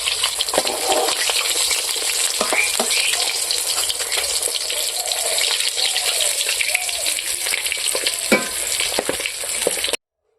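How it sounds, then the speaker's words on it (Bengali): Pieces of a large pangas fish fry in hot oil in a village-style kitchen, giving a steady, close sizzle broken by occasional stirring clicks, and no one speaks. "আমার মাছ ভাজা হয়ে গেছে"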